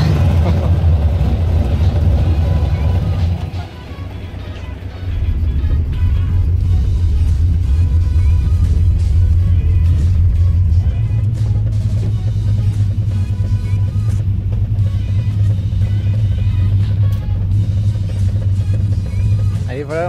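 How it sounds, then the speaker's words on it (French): A Pontiac Firebird with a 467ci engine fires up and settles into a deep, loud, continuous rumbling idle with slight revs, heard up close while people talk nearby. "on va partir manger avec le démarrage de la Firebird"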